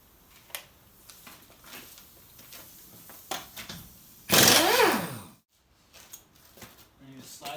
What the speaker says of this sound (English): we're going to take off this tire with that impact